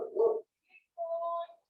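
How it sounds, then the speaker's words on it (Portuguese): Several dogs bark and yelp nearby during an online lecture, a short loud burst followed by a whiny, drawn-out whimper, with brief quiet gaps between. "Desculpa aí, porque tem uns cachorros aqui."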